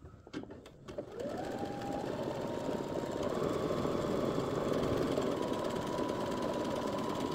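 A sewing machine stitches a button placket on a skirt, starting with a few clicks and then running fast and steady in a close, continuous whirring buzz until the end.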